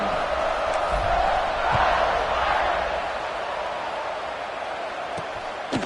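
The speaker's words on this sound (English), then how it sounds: "this crowd is buzzing after that last score" In a stadium in an American football video game, a crowd buzzes with a steady, dense roar that holds at a moderate level throughout, with a few faint thumps and no distinct voices.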